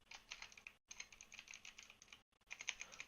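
Keys clatter in quick, uneven bursts on a computer keyboard, broken by two short pauses, soft and close with no voices.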